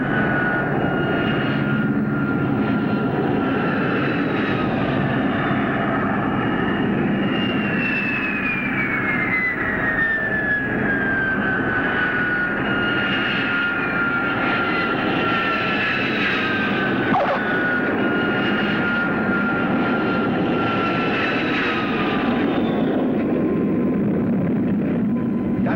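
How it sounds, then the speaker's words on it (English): An airplane on final approach for landing drones loudly and steadily, with engine whine tones sliding slowly downward and a continuous roar from start to finish. "That's what I call a perfect landing."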